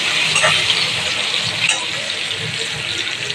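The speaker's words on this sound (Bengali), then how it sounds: "তারপরে এখন পেঁয়াজটা দিয়ে ভাজা ভাজা করবো" Onions frying in oil with cumin seeds in a pan for an okra and potato dish, giving a loud, steady, close sizzling hiss that holds throughout with no pause.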